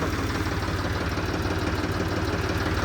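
A Swaraj 855 tractor engine idles close by with a steady, loud, low chugging throb, running evenly throughout with no voices over it.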